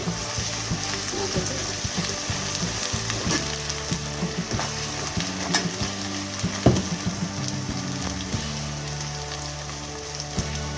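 Ginger paste frying in a pan for a Meal Maker soya chunk curry, giving a steady close sizzle and crackle throughout with occasional stirring clicks and no talk.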